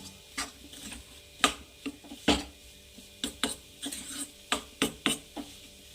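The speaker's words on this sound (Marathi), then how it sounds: "आता छान हलवत राहायचं याला मिक्स करू" Besan zunka mixture stirred in a pan, a spoon scraping and knocking against the metal in a dozen or so irregular sharp strokes over a quiet background, no talking.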